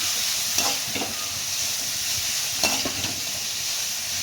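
Grated coconut frying in a pan, a steady close sizzle with a few stirring scrapes, alone with no talk.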